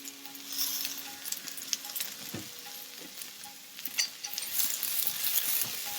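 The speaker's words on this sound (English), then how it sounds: "Give that a quick stir fry together." Thai chili paste stir-frying in a hot pan for cashew chicken, a dense crackling sizzle with tossing and light metallic clinks, close and continuous, no voices.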